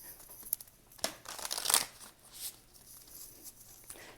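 Tarot cards being shuffled close by on a table, with papery riffling and soft slaps in irregular bursts, no talking.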